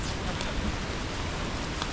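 Light drizzle falling over forest on a monsoon trek in the Valley of Flowers, a steady, soft hiss of rain with faint patters that lasts the whole time, close and even.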